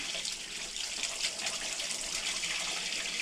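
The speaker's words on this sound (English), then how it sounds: "Rinse all the paint out as much as you can." Tap water running steadily while paint is rinsed out of a brush in a paint shop cleanup sink, a constant close hiss and splash with no voices.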